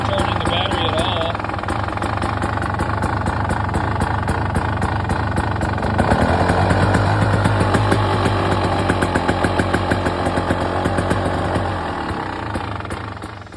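A 2023 KTM 300 XC two-stroke motorcycle with a faulty stator idles close by, a steady rapid putter that thickens slightly partway through, with someone talking over it.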